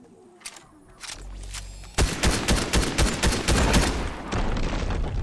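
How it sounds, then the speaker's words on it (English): Rapid bursts of gunfire in the video game Fortnite, a Battle Royale duos match: sharp repeated shots crackle densely from about two seconds on, loud and close, after quieter sporadic game sounds with no talking. "Now I can shoot him as he's trying to chase you"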